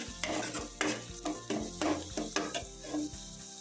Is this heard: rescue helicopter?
no